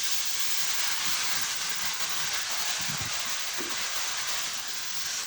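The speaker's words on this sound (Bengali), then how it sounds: "আমি এখন করলা ভেজে নেবো" Bitter gourd fries in a pan with onion, chilli, turmeric, cumin and salt, giving a steady, loud, broadband sizzle that holds evenly throughout with faint bubbling underneath.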